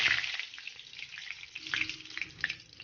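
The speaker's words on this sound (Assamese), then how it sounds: "তেল গৰম হোৱাৰ পাছত মই তেজপাত দুখিলা দি দিছোঁ" Two bay leaves sizzle and crackle in hot oil in a pan, a steady close frying hiss with scattered small pops and spits throughout, no talk.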